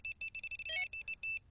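A Delkim TX-i+ fishing bite alarm bleeps in a rapid run of short, evenly spaced high electronic tones, with a brief warbling two-tone flourish midway and one longer tone near the end, close and clean.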